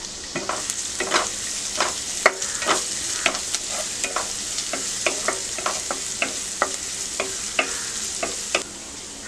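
Grated garlic and ginger sauté in hot oil for bread chilli, a steady sizzle broken by regular, fairly close spoon scrapes and taps against the pan, with no talking.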